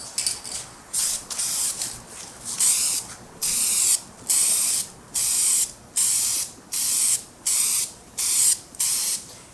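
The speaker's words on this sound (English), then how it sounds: "We're gonna give these guys a hit of some paint and start the 3-coat process that we'll be doing to coat them." Spray gun applying color-matched paint to car body panels in light first coats, a loud close hiss in about a dozen regular bursts of roughly half a second each, separated by short pauses, with no talking.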